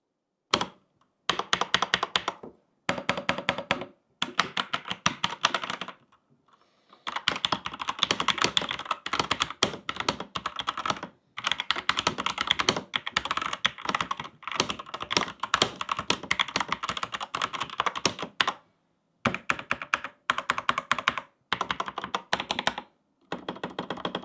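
Red-switch Royal Kludge mechanical keyboard typed on in quick, steady bursts, close and crisp, with short pauses between runs of clicking keystrokes and no talking.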